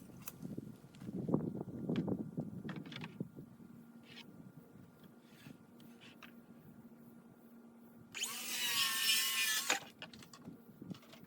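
A power saw whines loudly through wooden boards in a wood shop for about a second and a half near the end, after a stretch of quieter knocking and handling sounds.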